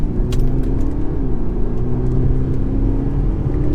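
A 2021 Audi SQ5 diesel driven in sport mode with manual gear selection gives a loud, steady engine drone over a low road rumble, close and unbroken, with no voices.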